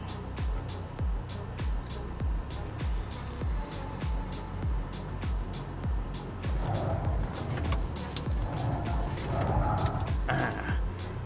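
Neta GT electric rear-wheel-drive sports coupe accelerating hard, a steady road rumble and motor whine with some tire noise building toward the end, heard from inside the car without talk.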